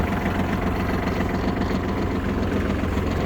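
A Kubota 23 Japanese mini tractor with reverse, its engine running at a steady idle, a constant low throbbing chug with even vibration and no break, close by.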